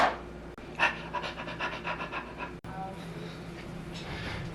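A small puppy pants in quick, rhythmic breaths close by, the panting steady and fairly loud through most of the clip.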